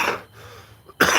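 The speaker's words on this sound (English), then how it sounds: "Oh, excuse my cough," Two sharp coughs, one at the start and one at the end, with a quiet pause of room tone between them, close to the microphone.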